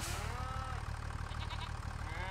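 Cows low in a Farming Simulator 25 game scene, a long drawn-out moo with sliding pitch over a steady low mechanical hum, fairly faint and alone without talk.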